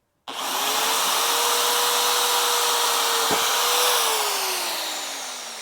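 A Ryobi D620H corded hammer drill, 6.2 amp and 2,700 RPM, runs in hammer mode while boring through thicker material. It gives a loud, steady whine throughout and drops in pitch as the bit bites and then eases off near the end.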